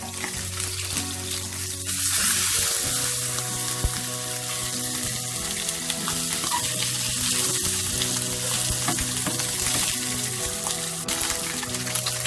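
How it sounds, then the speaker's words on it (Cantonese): Grass carp belly pieces fry in a hot wok, giving a loud, continuous close-up sizzle and crackle with occasional stirring or scraping sounds throughout. "煎一煎呢個魚，"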